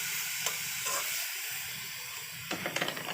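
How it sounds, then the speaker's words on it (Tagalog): Food cooking in a hot pan, a steady sizzling hiss with scraping stirring strokes and a few clatters of a utensil near the end. "Atin pong haluin siya."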